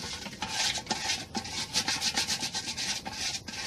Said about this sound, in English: need to get inside here where the hole is and scuff it